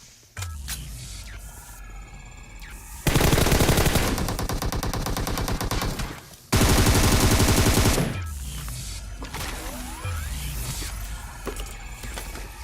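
Sustained bursts of rapid automatic gunfire in PUBG Mobile, two long loud volleys separated by a brief pause, with quieter mechanical clicks and sporadic shots before and after.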